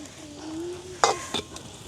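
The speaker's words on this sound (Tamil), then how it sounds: "இந்த பிளம்ஸ் காஜு எல்லாம் பொரிக்க நெய்யில் வந்து அடுப்பு வந்து கூட எரியக்கூடாது" Raisins and cashews frying in ghee in a pan while making kesari in a village kitchen: a soft steady sizzle with two sharp stirring scrapes and a clatter close by, no talking.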